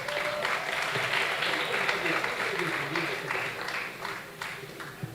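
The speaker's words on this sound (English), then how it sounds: "so let's keep clapping until she comes down" Sustained audience applause at a Ugandan school debate grand finale as a regional Miss Tourism is introduced, steady dense clapping from a large crowd lasting the whole stretch with faint voices underneath.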